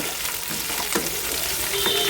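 Cauliflower fries in hot oil with a loud, continuous close sizzle and a few soft stirring scrapes, with no voices over it.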